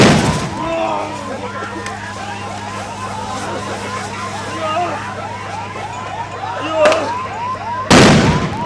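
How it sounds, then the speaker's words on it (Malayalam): Police fire tear gas shells and grenades at protesters. A wailing, siren-like warble runs steadily throughout, and two sharp, loud bangs burst out near the end. "10 തവണ ടിയർ ഗ്യാസും ഗ്രനേഡും പ്രവർത്തകർക്ക് നേരെ പറന്നിറങ്ങി"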